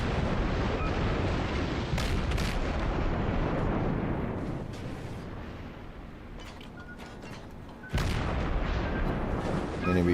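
Enemy warship secondary guns firing in World of Warships, a dense rolling barrage of cannon booms and blasts, with sharper loud reports near the start and again toward the end, no talk over it.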